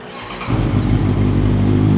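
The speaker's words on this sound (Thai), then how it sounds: "มาฟังเสียงท่อคันนี้กันนะฮะ" A 2017 Honda CBR650F with an aftermarket real-carbon Akrapovic-style exhaust catches and settles into a loud, steady, deep idle rumble close by, with no voices.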